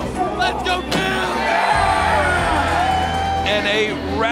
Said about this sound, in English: And a ravenous red towel waving crowd.